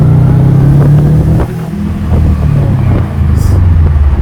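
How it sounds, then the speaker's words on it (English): The boxer engine of a Subaru WRX STI revs up close and loud, rising and falling in pitch with wind buffeting over it. "Oh, the boxer engine. And it's so easy to rev max this car even."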